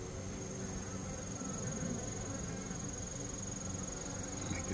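Wild honey bees buzz steadily outdoors, a faint continuous drone with a thin high whine persisting throughout.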